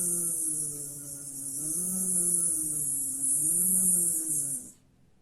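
A human voice imitates an annoying mosquito's buzz as a vibrato exercise, a sustained nasal hum that wavers and swells in pitch as if approaching and retreating, held for about four and a half seconds before stopping.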